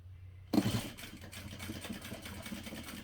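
A sewing machine stitches a straight line across a parachute knapsack, starting after a short pause with a brisk, rapid mechanical rattle that runs steadily at moderate volume to the end.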